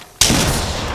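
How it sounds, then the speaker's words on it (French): Gunfire in the Apex Legends video game, a single sharp report bursting in after a near-silent start, then a loud sustained rumble of shots and echo filling the rest of the second. "On me tire dessus"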